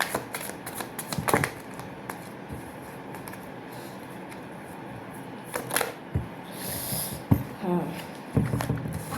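Tarot cards are shuffled in scattered riffles and soft slaps, with breathy rustles and a brief hiss between bursts. Light handling sounds come and go irregularly, fairly close.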